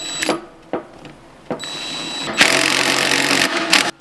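A small mini impact wrench pulls lug studs into an EG Honda Civic front hub against a stack of washers and a lug nut, with a few short clicks and bursts followed by a loud sustained hammering rattle up close.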